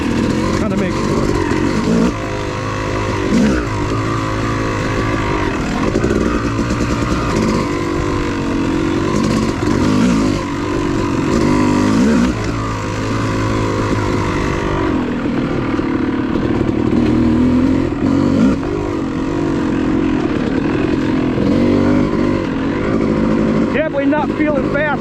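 Dirt bike ridden along a two-way off-road woods trail at Enoree OHV, its engine droning steadily and close throughout with shifting revs, while a rider's voice talks over it.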